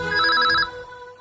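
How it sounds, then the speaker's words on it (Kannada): A telephone rings once with a short, bright trilling burst, clear and close, then fades into quiet. "ರಿಂಗ್ ಆಗ್ತಿದೆ, 1 ನಿಮಿಷ ಇರಿ,"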